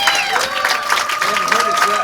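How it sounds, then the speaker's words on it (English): A panel audience at a science convention applauds, a busy mass of clapping and crowd noise with voices talking and calling out over it. "The applause is great."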